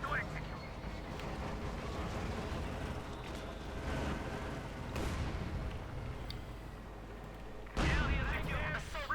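Heavy booms of Jagdpanzer tank cannon fire and battle noise in Company of Heroes 2, with a sharp loud blast near the end, all under continuous commentary.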